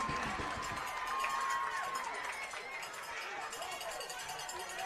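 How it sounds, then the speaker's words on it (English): Hometown crowd in the stands at a high school football game, a distant, steady roar of cheering and chatter running the whole time, fairly faint, with a broadcaster talking over it. "You can hear the hometown crowd right in front of us"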